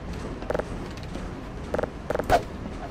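A tram's brake lever in a train video game, heard as short clustered mechanical creaks and clicks in three or four quick bursts over a few seconds, with no talking.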